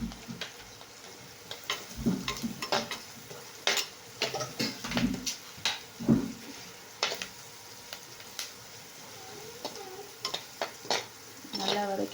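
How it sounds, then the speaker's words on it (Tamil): Carrots and green chili sautéing in a pan for a carrot poriyal, with steady soft sizzling and repeated spatula stirring and scraping strokes close by. "ஒரு பச்சை மிளகா கட் பண்ணி வச்சுக்கோங்க அதையும் போட்டு வதக்கிக்கோங்க"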